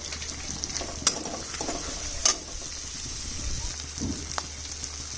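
Chili paste and turmeric fry in oil for a katla fish curry, giving a steady low sizzle with a few sharp scrapes and clinks of a stirring spoon. No one speaks.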